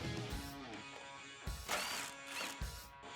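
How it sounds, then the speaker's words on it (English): A 10mm socket with an extension turning a bolt on the inside of a 2009-2014 Ford F150 headlight, giving quiet close ratcheting clicks and metallic rattles in short bursts with brief pauses between them. "Using a 10mm socket, and you may want an extension here, remove the 3rd bolt on the inside of the headlight"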